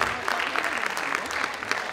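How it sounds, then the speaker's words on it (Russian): Brief burst of audience applause at a women's recognition contest held at a mining and metallurgical company, lively clapping with voices mixed in beneath it. "Ваши бурные аплодисменты."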